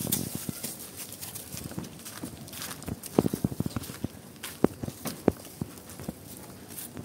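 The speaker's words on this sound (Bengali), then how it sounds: "এই গাভীটা খুলে একটু হাঁটায় দেখা" An older dairy cow, past six teeth, is led walking. Its hooves give irregular, fairly close thuds and knocks over a low background noise, with no clear talk.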